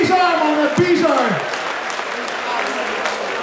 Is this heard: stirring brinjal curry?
no